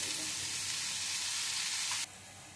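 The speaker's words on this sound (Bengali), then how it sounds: "আমার রসুন আর কাঁচা লঙ্কাটা ভাজা হয়ে গেছে" Garlic and green chilies fry in a pan, a steady bright sizzle that drops abruptly to a quieter level near the end.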